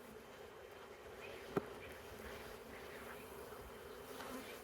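Honeybees hum in a faint, steady drone around an open beehive during an inspection, with one brief click partway through.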